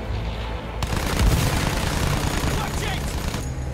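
Heavy gunfire in the video game Battlefield 1, a continuous barrage of shots and booms with a voice talking over part of it.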